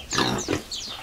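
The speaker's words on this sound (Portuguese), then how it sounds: "E no chiqueiro tem porcos." Pigs grunt and squeal close by in a pigsty on a farm, in a couple of quick, rough bursts.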